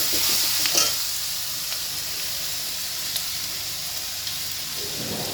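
Salted vegetables are stir-fried on a medium flame for sauce-free veg fried rice. A constant close sizzle carries scraping stir clatter near the start and occasional light knocks, with no voices.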